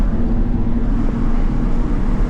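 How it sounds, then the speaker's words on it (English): A small smart car's engine and transmission drone steadily from inside the cabin, a loud low rumble with faint wind noise and no clear gear changes or talk. "this little smart car is not very quick, but it definitely does make some funny noises"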